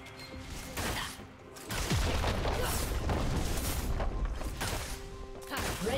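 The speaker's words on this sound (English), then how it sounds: "Red team's turret has been destroyed." A League of Legends turret being destroyed in-game: dense booming crashes and explosive impacts run continuously and loudly for several seconds, with a softer lead-in and a brief dip before the heavy burst.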